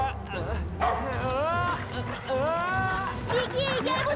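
Several yelping cartoon dog barks and whimpers are heard amid lively background music and sound effects in an animated film.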